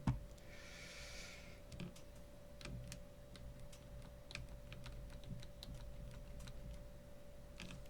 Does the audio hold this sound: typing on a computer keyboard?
yes